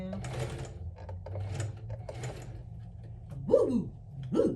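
A domestic sewing machine stitches a quilted crossbody handbag made from a scarf bandanna near a zipper, running in short close bursts with brief pauses and a voice exclaiming over the end.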